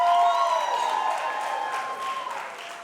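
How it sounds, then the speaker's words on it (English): An audience at a school district's state of the schools address gives a teacher a sustained round of applause mixed with cheering and crowd noise, steady and fairly loud throughout. "Let's give her another round of applause"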